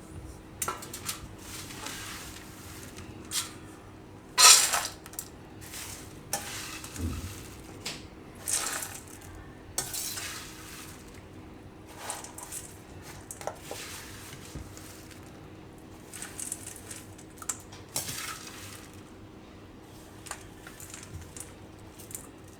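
Spiced puffed rice (mamra) with panipuri flavour masala tipped and scraped into a bowl, giving a run of crisp rustling, crunching bursts with one sharper clatter, close and fairly soft, with no talk over it.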